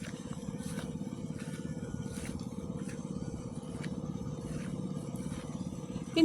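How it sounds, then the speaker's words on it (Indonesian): A rice planting machine runs in a paddy field, its small engine chugging in a steady, rapid rhythm at moderate distance, with faint periodic clicks and scrapes over the low drone. "nggak kedengeran teman-teman karena suara mesin"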